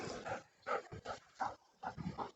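A dog whimpers and squeaks in a series of short, high, whiny yelps, fairly quiet and close.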